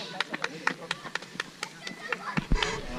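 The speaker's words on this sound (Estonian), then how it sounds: "Aplaus." Scattered hand claps at a race finish, about a dozen sharp separate claps from a few people across three seconds, with a voice speaking near the end.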